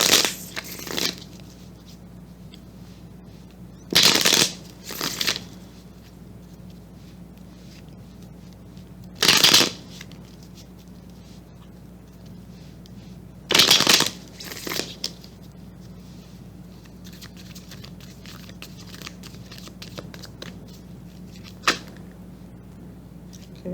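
Tarot cards being shuffled in short, crisp riffling bursts, about four or five spaced several seconds apart, close to the listener over a low steady room hum, with no talking.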